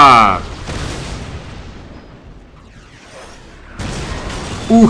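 Heavy booming explosions in the video game Dawn of War: Soulstorm rumble and crash, fading into a long rolling tail before another burst of explosive noise erupts near the end.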